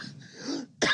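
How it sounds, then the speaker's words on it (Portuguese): A single sharp cough bursts out near the end, loud and close, after a stretch of quiet breathy noise. "Teve com tosse."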